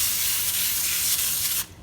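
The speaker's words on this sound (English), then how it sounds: "I'm also gonna spray it with cooking spray" Cooking spray hisses steadily from an aerosol can into a round baking tin for bread, one continuous close burst that cuts off sharply near the end.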